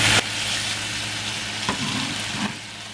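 Onions sizzle steadily in a pan for Sri Lankan-style chicken shawarma, close and moderately loud, with a couple of brief stirring scrapes.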